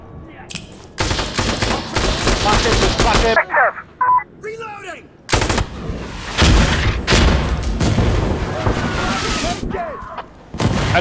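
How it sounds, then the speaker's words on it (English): Incoming enemy mortar barrage in Insurgency Sandstorm, a run of heavy booming blasts and gunfire in long loud bursts with short quieter gaps, radio chatter and voices talking between impacts. "Enemy mortars inbound."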